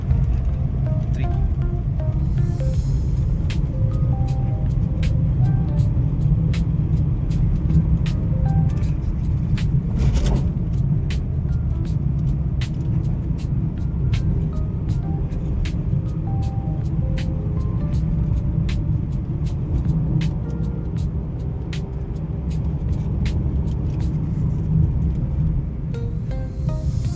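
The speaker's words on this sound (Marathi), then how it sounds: "स्पीडनुसार गिअर चेंज करते ऑटोमॅटिकली. गिअर कमी पण करते, चेंज पण करते." A car with an AMT automatic transmission drives along and shifts automatically between first, second and third gear. A steady, loud engine and road rumble runs throughout, with a brief thump near the middle, and someone talks over it.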